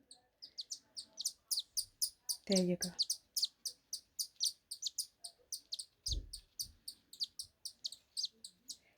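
Rapid, high-pitched begging calls from a baby cockatiel being hand-fed repeat in a steady, insistent rhythm, close by, with a brief spoken phrase and a soft thump partway through.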